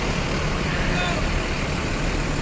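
A departing West Sumatra bus idles and manoeuvres while parking, giving a continuous loud, even engine rumble with faint background murmur.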